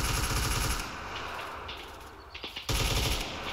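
Machine gun fire from a Marine platoon's suppression drill in a battle-training exercise, heavy sustained bursts that open loud, drop away for a stretch with scattered distant shots, then resume in another strong burst.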